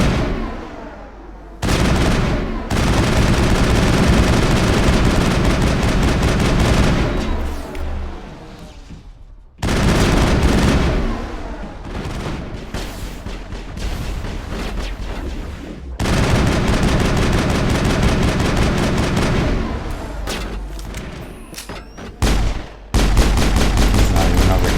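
Sustained bursts of gunfire and explosions from the video game Mass Effect roar loud and dense, with rapid automatic fire broken by brief pauses and heavy booms, dominating the whole scene.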